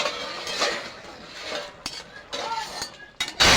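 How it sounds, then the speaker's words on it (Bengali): A pot of potato and pointed gourd curry being covered and stirred, with metallic clinks and scrapes of utensil against pot scattered through, and a sharper clatter near the end. "ঢেকে দেবো, তরকারিটা একটু নাড়িয়ে দেবো।"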